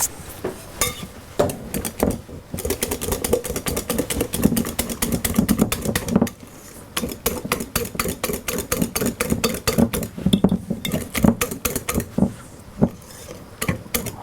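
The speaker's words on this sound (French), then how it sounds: "je termine le mélange après au fouet pour bien lisser" A whisk beats choux pastry dough smooth in a bowl, a fast, steady rattle of metal wires scraping and tapping the sides, close and continuous with a couple of short pauses, no talking.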